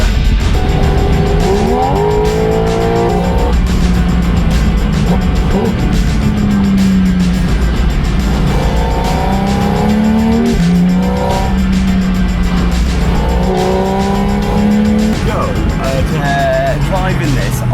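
A Porsche Spyder RS sports car with a manual gearbox drives a Black Forest road in Germany, its engine rising and falling through gear changes, loud and close, with talk over the top.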